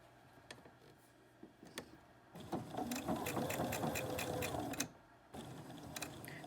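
A sewing machine stitching a fabric face mask: quiet ticks and handling at first, then a fast, steady mechanical whirr for a couple of seconds, a brief stop, and a short final burst.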